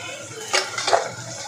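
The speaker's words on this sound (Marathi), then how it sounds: "याला चांगलं मिक्स करून घ्यायचं आहे आपल्याला" Salt, coriander powder, turmeric and red chilli powder are stirred into dal palak in a pan, giving two quick metallic clinks and scrapes of a spoon against the pan over a faint background hum.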